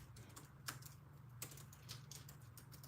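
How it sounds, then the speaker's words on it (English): Keys on a computer keyboard clatter softly in an irregular run of light taps, faint and close, with a steady low hum underneath and no talking. "I am typing."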